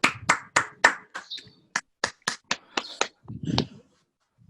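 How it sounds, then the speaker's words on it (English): Roughly a dozen distinct hand claps, close and fairly loud, in an uneven rhythm that thins out and stops, with a brief murmur near the end. "let's give Andrei a massive warm of applause."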